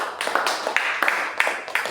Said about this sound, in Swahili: pigie Bwana makofi kwa ajili yao